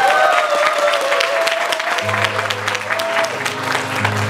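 An audience claps along at a mini concert during a book talk show, steady crowd applause under a backing track with sustained musical tones, moderately loud and continuous.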